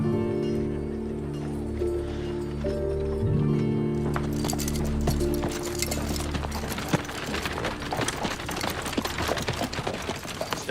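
Horses' hooves clip-clopping on a street in a Western setting, a brisk, steady clatter of many hoofbeats that takes over from music and grows denser and louder.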